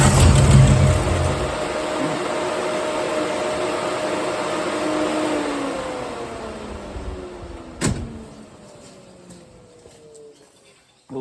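A Torana car engine with a fuel leak runs with a steady mechanical drone that gradually fades and winds down, punctuated by a single sharp knock near the end.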